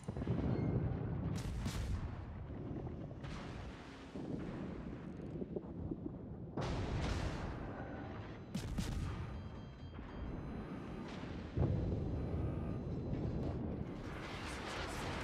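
Warship guns firing in the naval battle game World of Warships, repeated heavy booming salvos at uneven intervals over a rumbling background, loud and close.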